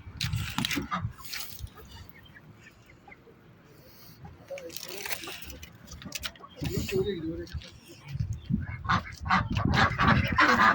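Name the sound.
chickens in a coop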